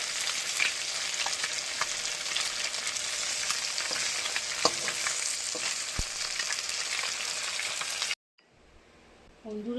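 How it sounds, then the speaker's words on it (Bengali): Fish frying in hot oil gives a steady, loud sizzle with crackles and spatters, running continuously for about eight seconds before cutting off abruptly to a quieter background. "কত সুন্দর ভাজা হচ্ছে দেখুন।"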